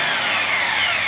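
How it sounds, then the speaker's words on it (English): An electric wrench buzzes in one loud, continuous burst while loosening the mower blade bolts on a John Deere L120 lawn tractor. "Get this electric wrench, Harbor Freight or Northern Tool."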